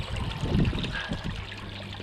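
Water running and trickling through a river sluice box outdoors, a steady close wash of flowing, splashing water with no talk over it.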